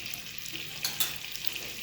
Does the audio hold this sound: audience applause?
no